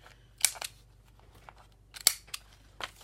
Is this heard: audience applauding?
no